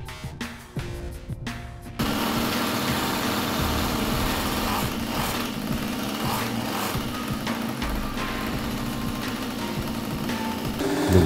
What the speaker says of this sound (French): vous allez pouvoir démarrer votre moteur